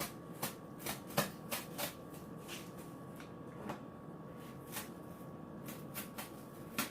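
Scissors snip through cardboard while a round cake plate is cut out, a series of crisp, irregular cuts close by over a quiet background.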